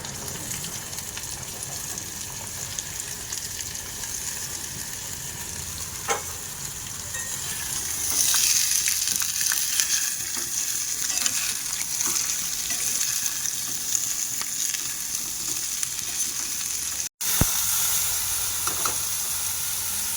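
Sliced bitter melon frying in a pan for a Bengali-style home dish, a steady loud sizzle that swells as the pieces hit the hot oil, with occasional stirring scrapes and no voices.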